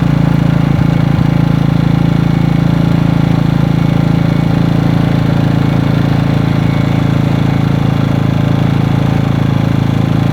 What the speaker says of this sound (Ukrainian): Генератор працює на газу в екорежимі, безпосередньо біля нього.